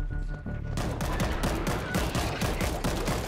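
Dense, continuous gunfire in the zombie shooter World War Z, rapid overlapping shots forming a steady loud barrage with no pauses for the whole stretch.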